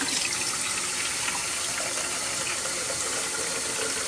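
Water pours steadily from a tap or kettle while preparing puer tea, a continuous close gushing wash with no talking.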